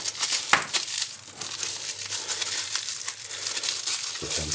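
A plastic bag is pulled off a heated-grip control unit for a Vespa GTS 300, crinkling and rustling loudly up close, with irregular crackling and a few sharper tearing snaps; nobody speaks.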